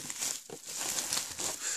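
Crinkling plastic and paper packaging on a Sony Xperia Z4 tablet box, close and continuous crackles and small tears for a couple of seconds with no voices.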